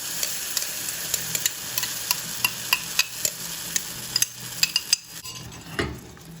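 Garlic frying lightly in a pan for fresh spring rolls: a soft, steady sizzle under repeated sharp clinks and scrapes of a utensil stirring against the pan, close by, with no talking.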